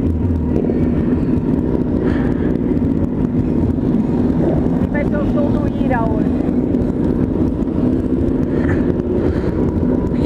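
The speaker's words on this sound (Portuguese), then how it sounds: "Muita moto, muita gente." A crowd of motorcycles at a motorcycle event in Barretos, Brazil, producing a loud continuous engine drone with wind buffeting, mixed with crowd noise and nearby voices.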